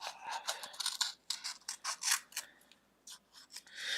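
Scissors snip through scraps of Cricut Infusible Ink sheet, giving a close, quiet series of crisp cuts in irregular bursts, some quick and clustered, with brief pauses between.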